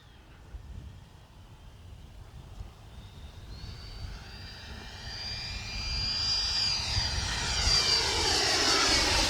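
An FMS Integral 80mm electric ducted-fan RC jet flies past, its whine rising and sweeping in pitch as it approaches, growing steadily louder over several seconds with a Doppler-like shift.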